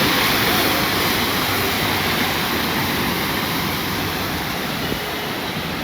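Heavy rain pours on a Dhaka street, a dense, even roar of falling water close around, steady and loud with no talk.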